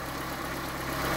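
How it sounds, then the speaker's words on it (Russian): A Lada Niva engine idles steadily on Shell 5W30 oil, a continuous close mechanical hum with a low rhythmic throb and no voices. "Вот, как работает двигатель на Shelly 5W30."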